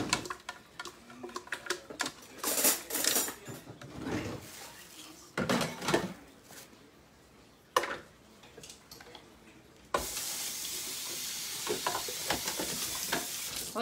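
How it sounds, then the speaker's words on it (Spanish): Meatball mixture of ground meat being mixed by hand in a bowl for albóndigas en caldo, a run of wet squelching and slapping bursts of uneven rhythm close by, then a steadier hiss toward the end. "Ya las voy a batir. A revolver aquí con la mano para hacerlas."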